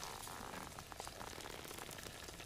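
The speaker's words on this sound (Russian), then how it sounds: "Так, черемша жарится, варится." Wild garlic frying and boiling over a campfire in the taiga, a soft, continuous crackling sizzle and bubbling heard close up and on its own.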